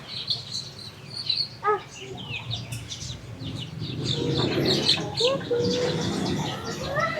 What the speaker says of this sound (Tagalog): Rhode Island chicken.